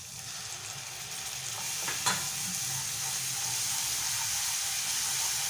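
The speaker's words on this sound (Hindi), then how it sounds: "लहसुन अदरक डाल के भी थोड़ा सा भूनेंगे।" Steady sizzling of onion, garlic and ginger frying in a hot pan, with a brief clatter of stirring midway; continuous hiss throughout, close and moderately loud.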